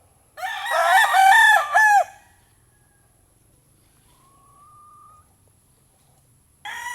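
A rooster crows loudly and close by among Boston pullets, one long call followed by near silence with a faint distant tone, then another crow begins at the end.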